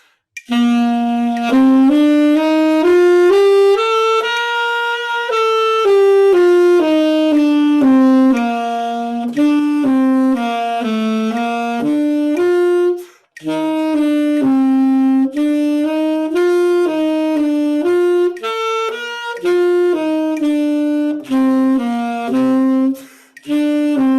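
A saxophone plays a steady run of sustained notes with the octave key left off, each slightly dull and breathy, with a short pause midway; no one talks.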